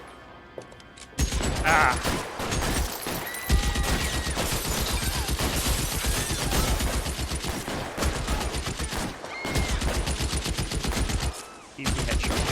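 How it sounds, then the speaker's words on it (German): A gunfight in the video game L.A. Noire, with dense bursts of automatic gunfire and single shots rattling almost continuously, loud and close, broken by a few short pauses; one brief vocal exclamation. "Hauptsache nochmal eine geile Ballerei jetzt"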